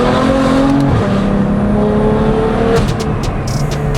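A BMW F80 M3 CS with upgraded turbos and a Valvetronic Designs equal-length exhaust revs loudly and steadily, its engine note rising and falling, with sharp bursts and crackles near the end.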